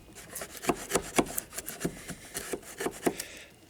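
Chisel paring out a cavity in wood for an oil stone, bevel side down, making a close series of short scraping and rasping strokes in an uneven rhythm, about a dozen cuts.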